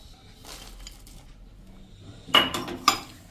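Chopped almond pieces tipped into a metal pan while making gond ladoo, giving a brief clatter and a few clinks of utensil on metal, close and fairly loud, after a quiet stretch.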